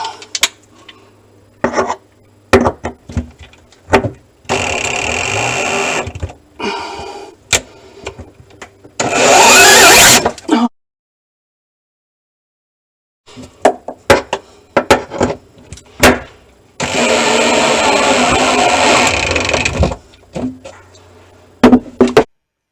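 Power drill driving screws while installing a rollout tray in a kitchen cabinet: two sustained whirring bursts of the drill, each a few seconds long, amid knocks, taps and handling noises of wood and hardware, close up.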